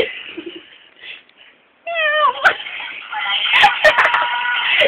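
Cat meows in a casual indoor setting: several wavering, loud close meows after a quiet start, followed by a busier stretch of meowing mixed with rustling and faint voices in the background.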